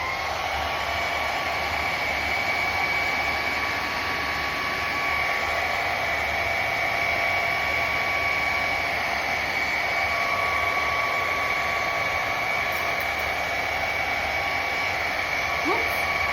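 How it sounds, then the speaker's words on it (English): Hair dryer blowing steadily on a wet craft project, a loud, unbroken close whoosh with a constant motor whine throughout. "Before I stick a sticker onto it, I need to make it dry. So let's blow dry."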